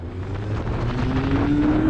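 A Harley-Davidson motorcycle with a Mivv GP exhaust is ridden, giving a steady low engine drone with a slowly rising tone, heard close up under strong wind buffeting.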